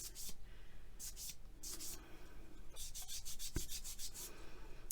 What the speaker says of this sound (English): with the sanding and the such